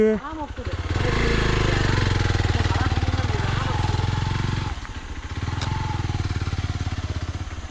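A motorcycle engine throbs loudly and close with a fast pulsing beat as it is ridden on a trek toward Nishane Gudda in Uttara Kannada, dipping briefly in the middle before revving on while voices speak.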